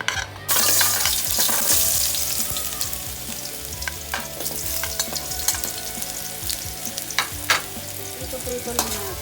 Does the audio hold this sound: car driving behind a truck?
no